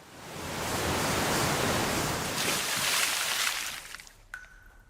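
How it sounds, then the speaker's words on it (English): Water from a waterfall crashes down in a broad, roaring rush that swells, holds steady, then fades away near the end. "water from the waterfall falls on top of them."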